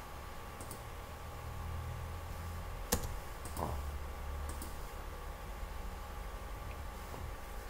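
Typing on a computer keyboard, a few scattered light clicks over a low background hiss, with one sharper key tap near the middle, quiet and close, with no talking.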